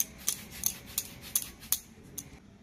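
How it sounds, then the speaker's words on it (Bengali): Scissors trim the extra edge off dough for red mushroom pitha with about seven crisp, evenly spaced snips, close and clear against a quiet background. "এইবার এক্সট্রা অংশটা এইভাবে কেটে নেব।"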